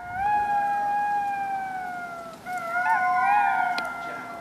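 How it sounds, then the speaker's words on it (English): Golden jackals howl in long, clear, sustained tones with several voices overlapping, then break into a fresh chorus of wavering, yipping howls over a quiet hiss in the background. "the golden jackal"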